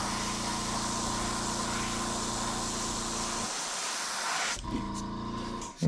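Airbrush spraying transparent paint onto a wiggle wart crankbait fishing lure gives a steady, close hiss with a compressor hum beneath, stopping briefly and resuming near the end.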